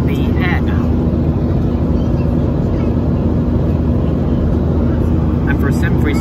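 Cabin noise of a Boeing 737-300 just after takeoff from East Midlands Airport: a loud, steady, broadband roar with a constant hum, and brief speech over it.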